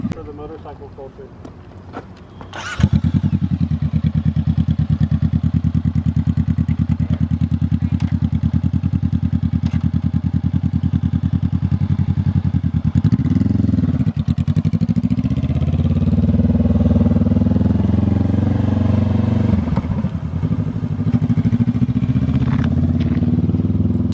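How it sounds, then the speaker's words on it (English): A 2020 Honda CBR500R with its muffler removed starts up and runs loud and close, a raw, throaty idle with a couple of revs rising and falling, steady and unmuffled throughout. "my bike sounds a lot better. It's more wet with that big ugly exhaust thing taken off, the muffler."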